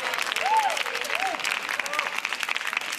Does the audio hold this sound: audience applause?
yes